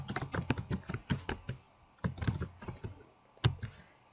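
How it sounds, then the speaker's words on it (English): Typing on a computer keyboard while entering HTML code, a quick close run of light clicking keystrokes in short bursts with brief pauses, quiet and alone. "if I type in hello world here"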